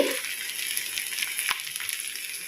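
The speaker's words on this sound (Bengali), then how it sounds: "পেঁয়াজটাকে হালকা ব্রাউন করব" Onions frying in oil with panch phoron for an aloo echor curry, a steady close sizzle with crackling pops and one sharp spit midway, no voices.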